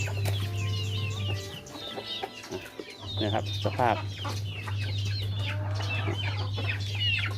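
Chickens cluck and squawk in a wet, flooded duck and chicken coop after heavy rain, with repeated nearby calls over a steady hum while someone talks.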